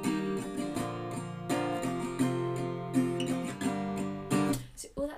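Acoustic guitar strummed in a simple pattern of down strums and a down-up, bright chords ringing in a steady rhythm, close and moderately quiet, with a muffled stop at the end.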